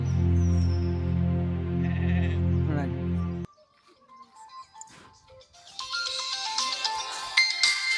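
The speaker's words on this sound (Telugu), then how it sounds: "ఫోన్ చేస్తున్నాడు రా" A mobile phone rings close by, a loud, sustained melodic ringtone that cuts off abruptly after about three seconds, followed by quieter scattered background sounds.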